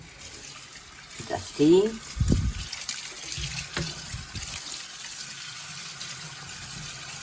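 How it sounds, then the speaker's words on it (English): Fresh garden ingredients being rinsed under a running kitchen tap, a soft steady hiss of water with splashes and handling sounds, while a person talks over it. "Very simply, just rinse."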